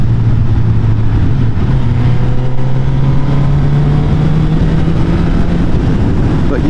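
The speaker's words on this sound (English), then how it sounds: "in 4th gear open her up, and the engine is pretty smooth actually. It has a gruff sound" A Suzuki GSX-S1000F motorcycle engine pulls hard and steadily in fourth gear, its gruff drone rising slowly in pitch over several seconds amid heavy wind rush, loud and close.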